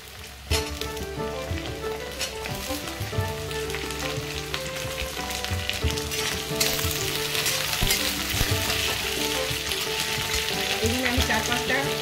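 Chopped capsicum fries in a hot pan with ginger for jackfruit chili chicken, giving a loud, steady sizzle. The sizzle grows a little stronger partway through, with occasional clinks from stirring.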